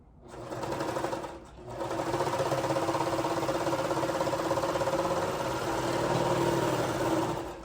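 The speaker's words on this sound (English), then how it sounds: "So we're gonna just sew that and then sew this corner." A sewing machine stitches a yoga waistband onto pants with a loud, close, steady mechanical whir, pausing briefly once before running on evenly.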